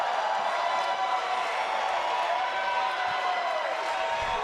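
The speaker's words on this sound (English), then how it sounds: "Listen to that crowd response." A crowd at a live independent wrestling event before a heavyweight title match keeps up a steady roar of cheering with scattered clapping, heard from within the arena.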